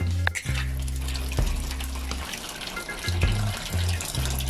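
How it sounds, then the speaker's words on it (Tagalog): Water running from a tap to fill the water tray of an egg incubator, a loud close gush with a few brief pauses and restarts and no talk over it. "Lagyan natin tubig at saka balik natin doon."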